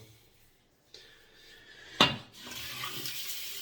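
Hot water runs from a tap into a sink while a face is wetted before a safety razor shave, the flow starting softly and then a sudden louder gush that settles into a steady splashing stream.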